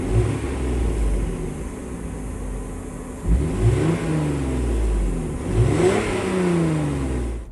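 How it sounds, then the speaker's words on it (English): A 1998-2005 Lexus GS300 engine idles steadily, then gets a few light blips of throttle, each rev rising and falling back to a smooth, close idle. "It's also good to give the engine a little gas and again look for any kind of smoke."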